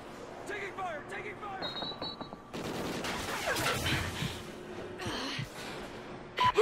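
Bursts of gunfire crackle through an online team shooter match, fairly quiet and mixed with radio-style callouts and game voices, with a louder cluster of shots near the end.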